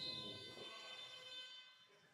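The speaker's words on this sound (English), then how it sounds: "The strangest buzzer I've ever heard." An electronic buzzer sounds steadily at a wheelchair basketball league game in a sports hall, a strange, strained high-pitched tone that holds for about two seconds amid faint court noise.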